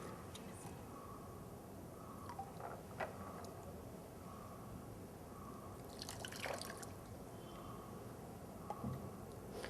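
Rubber catheters are rinsed under running tap water in a nursing sterilization routine, giving a faint, steady trickle with scattered soft drips and splashes throughout, no voices.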